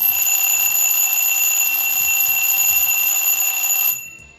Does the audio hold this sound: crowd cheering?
no